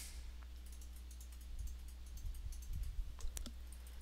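Quiet, sharp mouse clicks from a Minecraft player shift-clicking items, a scattered run of light taps that clusters toward the end over a low steady hum.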